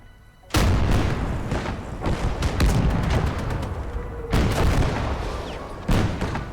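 Heavy booming blasts of enemy mortar fire in a video game, several loud thuds landing close together with sharp onsets and rumbling tails, a dense barrage that keeps rolling with fresh impacts near the middle and end.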